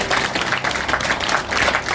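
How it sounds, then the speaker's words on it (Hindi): An audience applauds to welcome guest Sanjay, close, loud continuous clapping with a slightly pulsing texture across the whole short stretch. "इनके लिए जोरदार तालियों से उनका स्वागत करें।"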